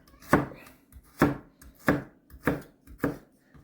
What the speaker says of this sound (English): now we're going to cut our potatoes like this